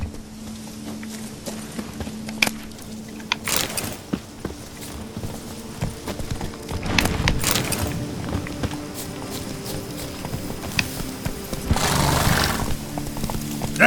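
Roach, the horse in the video game The Witcher 3, gallops with quick hoofbeats and an occasional whinny, set against in-game ambience and background music with no voices.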